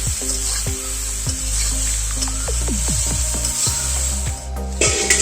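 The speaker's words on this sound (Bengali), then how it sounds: "এবারে এটা যত যতক্ষণ না লাল লাল করে ভাজা ভাজা হচ্ছে নাড়তে হবে।" Drumsticks (sojne data) frying with cumin powder and salt in a wok, a steady close sizzle broken by repeated sharp scrapes and knocks of a spatula as the pieces are stirred, no voices.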